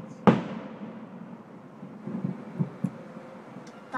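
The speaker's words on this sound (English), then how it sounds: "Fireworks." Fourth of July fireworks burst at a distance: one sharp bang followed by a low rumbling wash and a few fainter pops, with no talk over them.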